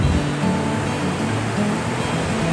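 Large ocean waves from a typhoon swell break and wash continuously in a loud, dense, even roar of surf with low rumbling underneath, heard up close at a crowded surf spot with no talking.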